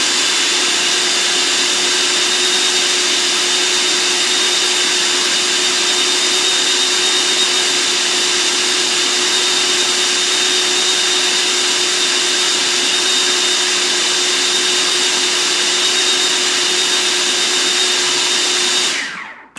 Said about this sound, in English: He hates it when I run the food processor in the blender.